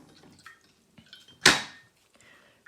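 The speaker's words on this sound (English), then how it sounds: "Now I'm going to wash it out in clean water" A watercolour brush is rinsed in a pot of clean water, giving one brief splashy swish midway, with faint taps and small drips before and after in a quiet room.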